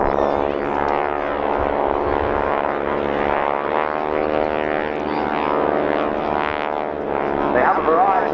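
Breitling Wingwalkers biplane making a pass at the Dunsfold Wings & Wheels air show: a loud, sustained propeller-engine drone with a strong harmonic buzz, holding steady and swelling toward the end, with a commentator talking over it.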